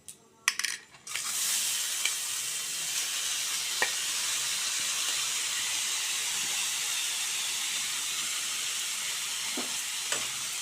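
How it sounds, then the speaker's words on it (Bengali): Drained soaked rice drops into a hot pan with a few sharp clattering hits, then a loud steady sizzle and hiss carries on, broken by occasional small ticks of grains and utensil, while chicken pulao is being cooked. "এই চালটা আমি অল্প দিয়ে দিলাম।"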